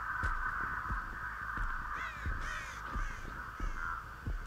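Crows caw repeatedly in the game Dead by Daylight, a steady run of harsh, hoarse calls at a fairly even pace, close and loud over a constant droning ambient hum.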